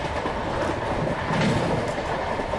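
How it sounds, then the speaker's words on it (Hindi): An Indian Railways train hauled by an EMD locomotive in ICF livery rolls past at a level crossing in Microsoft Train Simulator, a steady loud rumble of wheels and carriages with a faint rhythmic clatter and no talking. "हॉन्क मारते हुए ये ट्रेन क्रॉस कर रही है हमको, EMD लोकोमोटिव के साथ में"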